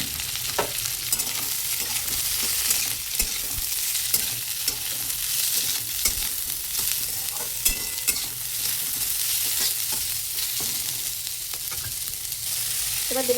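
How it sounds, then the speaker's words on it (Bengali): Onion and capsicum hiss and crackle in a hot wok while being stirred, a steady close sizzle with regular scraping strokes throughout and no speech. "ভাজা হয়ে গেছে, এবার দেবো পেঁয়াজ আর ক্যাপসিকাম।"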